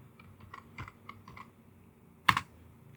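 Fingers tap a computer keyboard in short, close clicks, a handful of soft keystrokes followed by one sharper, louder press near the end.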